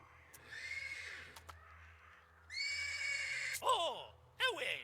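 A horse in the Black Book video game neighs twice with shrill, wavering whinnies near the end, after breathy snorts and bursts of game sound effects.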